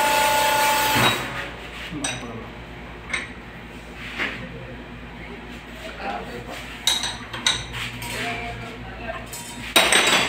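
A wrench works on a leaking fuel line at an Isuzu V-10 injection pump, with metallic clinks and taps scattered irregularly through the stretch, close by, and someone talking intermittently over them.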